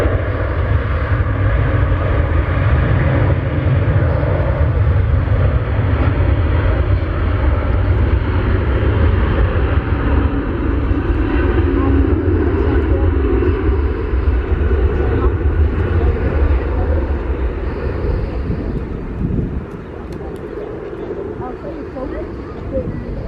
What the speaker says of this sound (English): we've just watched the Orlando flight go out